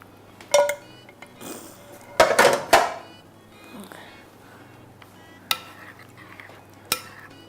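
Butter is stirred into a chicken malai boti mixture in a bowl or pan, giving a few distinct spoon clanks and scraping bursts separated by quieter gaps, close and fairly loud.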